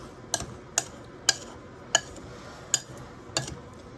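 A spoon stirring a Russian tea drink mix in a bowl, giving sharp, regular clinks roughly every half second to second, light and close against a quiet room.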